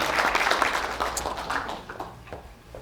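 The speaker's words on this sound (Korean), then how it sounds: "박수 한번 부탁드려요." Scattered audience clapping at an economics lecture, a smaller group giving uneven, thinning applause that fades toward the end.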